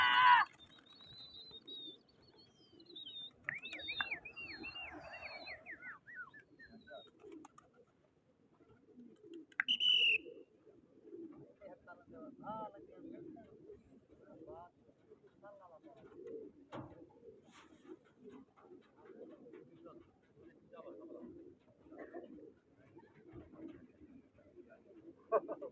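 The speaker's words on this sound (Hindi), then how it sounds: "कबूतर उड़ रहे हैं" Pigeons coo and flutter their wings as they fly, with soft repeated calls and flapping over steady background murmur, while people talk nearby.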